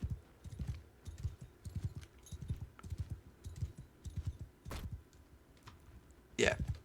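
Mount & Blade 2: Bannerlord horse hooves pounding in a quick repeating rhythm during a mounted charge into battle, moderately close, with a couple of sharp clicks and a brief burst of noise near the end.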